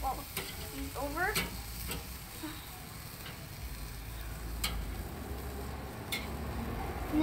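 Chicken and onions sizzling on a barbecue grill as pieces are flipped, a low steady sizzle broken by sharp metallic clicks and scrapes of the tongs.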